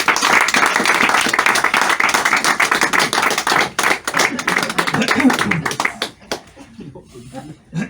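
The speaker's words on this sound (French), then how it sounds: "Les applaudissements juste vont les réveiller." Theatre audience at a comedy hypnosis show clapping loudly and steadily, the applause thinning and fading out in the last two seconds as a voice takes over.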